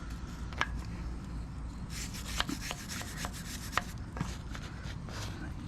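Engine parts scrubbed with a brush during degreasing: a steady, close rubbing and scraping texture with occasional sharper knocks, no talking.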